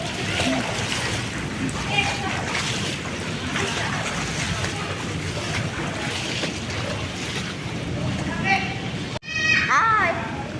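People splashing and swimming in outdoor water at a camp, with steady sloshing and splashes under lively nearby talk, then an abrupt cut to a louder burst of voices.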